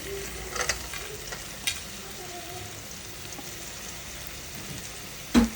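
Green chili and onion frying in a pan, a faint steady sizzle with a few soft scrapes and knocks from stirring, then one sharper clack near the end.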